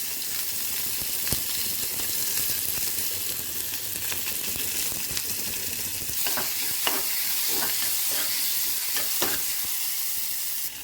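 Onion and curry leaves sizzle steadily in hot oil with mustard seeds, cumin and urad dal for a vegetable poriyal, a constant bright frying hiss with a few soft stirring scrapes near the end.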